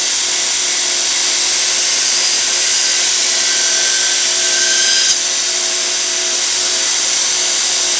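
Sandpaper grinds steadily against a steel knife blade during full-flat shaping, a continuous loud abrasive hiss up close with no pauses and no talk.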